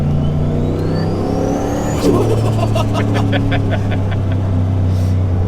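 A turbocharged Holden Commodore VY on coilovers drives along with a steady, loud engine drone and a rising turbo whistle, then a brief throttle change with higher whining tones near the end, all without speech.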